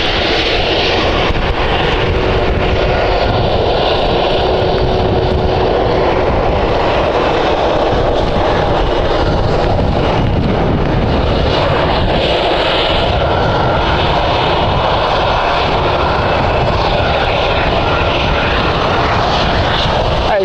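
Qatar Airways airliner jet engines at Edinburgh Airport, a loud, sustained roar that holds steady throughout without talk.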